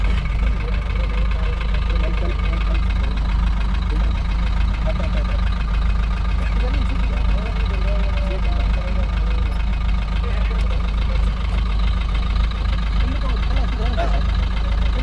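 A vehicle's engine idles steadily with a low, even rumble throughout, while people talk nearby over it.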